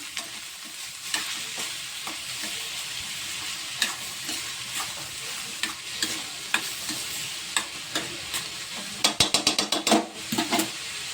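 Chopped onions and green chillies fry in a pan with a steady low sizzle, punctuated by repeated scrapes and taps of a spatula stirring, ending in a quick burst of rattling strokes; no voices.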